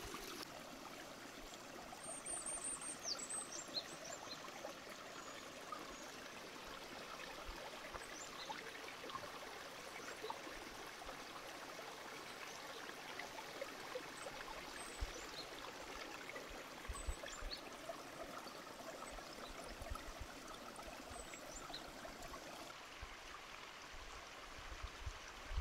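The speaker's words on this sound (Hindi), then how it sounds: "एक ये वाला जो गधेरा है, हमारा जो मूल पानी है, पहला पानी, वो यहाँ से आता था।" A Himalayan mountain stream runs steadily through a forest setting, a soft continuous rush and trickle of water heard alone at a distance, with faint high chirps briefly near the start.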